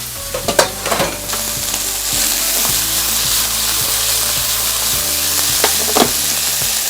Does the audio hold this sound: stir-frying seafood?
yes